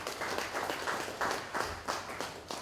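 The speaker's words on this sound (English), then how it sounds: "I think this deserves a round of applause for that." An audience at a government energy ministry press briefing claps in a short burst of moderate, slightly distant applause.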